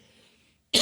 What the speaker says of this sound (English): you hold on, got a cough